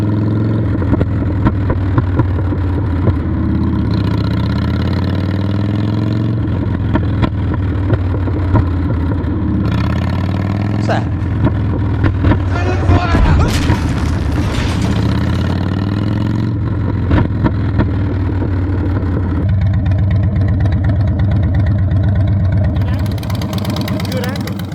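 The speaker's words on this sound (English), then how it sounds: "the pops that she's always doing whenever I let off the throttle" A V-twin motorcycle engine runs steadily throughout, with its exhaust popping and crackling as the throttle is released, fairly loud and close, while a person talks over it.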